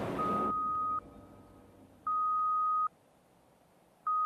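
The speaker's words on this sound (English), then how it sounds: "the telltale sound of a bear mortality signal" Steady electronic beeps from a bear's radio collar signalling mortality, picked up on a telemetry receiver; long tones spaced about a second apart, clear and loud over a quiet hiss.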